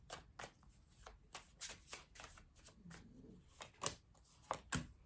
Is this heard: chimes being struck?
no